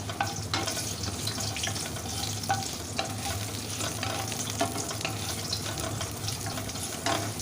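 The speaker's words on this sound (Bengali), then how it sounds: "গ্যাসের ফ্লেমটা লো রেখে পাঁচ ফোড়নটাকে ভেজে নিচ্ছি" Panch phoron spices frying in a few spoons of oil in a wok over a low gas flame, a continuous gentle sizzle with scattered pops and spoon-stirring scrapes, steady and close, with no talking.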